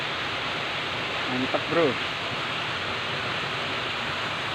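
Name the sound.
waterfall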